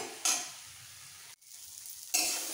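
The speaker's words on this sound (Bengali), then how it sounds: "এইভাবে একটুখানি কষিয়ে নিতে হবে শাক পাতাটাকে" Water spinach (kolmi shak) is stir-fried in a pan, a quiet steady sizzle broken by two sharp bursts of louder frying as the greens are tossed, with no voices.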